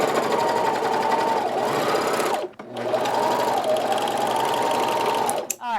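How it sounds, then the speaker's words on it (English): A serger runs steadily, stitching the back seam of a knit tee with a loud, even mechanical whir, pausing briefly midway before resuming and stopping with a click. "we're just going to serge that seam there in the back."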